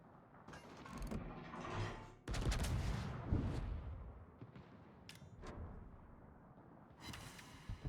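Naval gunfire from the cruiser Marseille in the World of Warships video game: several heavy, booming salvos with rumbling, rattling tails, some close together and others spaced apart, with no talking.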